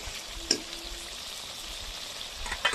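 Chopped tomatoes sizzle and fry in hot oil in a pan, a soft steady crackle close by, with a couple of brief stirring clinks and small spikes along the way.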